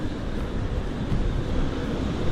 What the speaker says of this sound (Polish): to nic innego jak tylko wiatr w jaskiniach